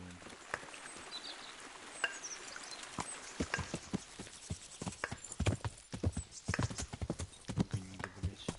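Horse hooves clip-clop in the video game Kingdom Come, a rhythmic stream of crisp, fairly close hoofbeats that grows busier and louder toward the end, with no talking.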